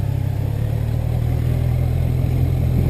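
A 2020 Kawasaki Z1000 base motorcycle engine drones steadily and loudly up close as the bike pulls away, with a constant low rumble and no break in the sound.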